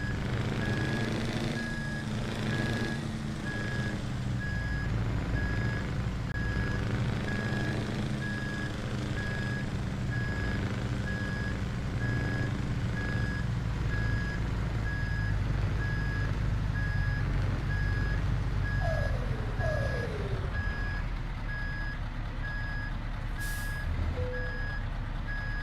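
A Scania S V8 truck in Euro Truck Simulator 2 reverses, its alarm giving steady, evenly spaced beeps over a low engine rumble, with a brief air-brake hiss near the end.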